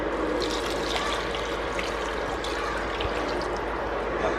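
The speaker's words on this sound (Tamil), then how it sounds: "அதுக்கப்புறம் தண்ணி ஆட் பண்ணிடுறேன்." Water poured into a pot of soaked basmati rice for ghee rice, a steady, close splashing and trickling stream running continuously without talk.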